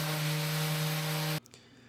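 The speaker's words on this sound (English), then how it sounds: "here goes some sanding. Just a little bit. A lot of sanding." A steady, droning whir of a power sander on wood runs continuously, loud and close, then cuts off abruptly near the end.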